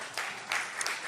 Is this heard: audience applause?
yes